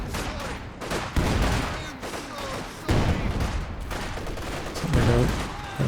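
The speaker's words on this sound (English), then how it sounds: "that's a big Zis barrage onto both those team weapons" A ZiS artillery barrage in Company of Heroes 2 lands as several heavy booming explosions amid scattered gunfire during a battle, with a commentator talking throughout.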